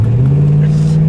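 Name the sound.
1971 Pontiac LeMans GT driving down the road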